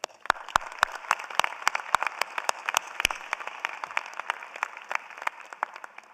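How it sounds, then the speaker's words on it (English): Audience applause fills a commencement ceremony for College of Social Work graduates, a dense steady roar of many hands clapping with sharp individual claps standing out throughout, sustained and fairly loud. "Please join me in a round of applause for these students"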